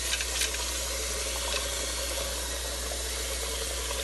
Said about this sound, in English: Drain it, drain it, drain it. Get all the water out.